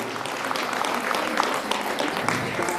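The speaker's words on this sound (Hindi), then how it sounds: "ऐसे आदरणीय सुनील रावत जी को जोरदार तालियों से स्वागत करेंगे" Applause at a Basant Panchami fair at Kanvashram, Uttarakhand, welcoming a respected guest: a steady wash of many hands clapping throughout, moderately loud with scattered sharper claps.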